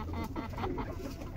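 A hen and rooster fight on a farm, with a short burst of agitated clucking and squawks up close, heard alone for a moment.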